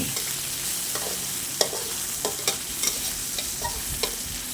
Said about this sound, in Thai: เราก็ผัดหมูให้สุกก่อนนะคะ